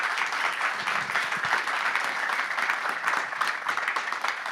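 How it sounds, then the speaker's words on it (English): An audience at a London presentation for the Living Room Study 2026 gives a sustained round of applause, a dense even wash of many hands clapping with no speech over it. "A big round of applause for Kelly."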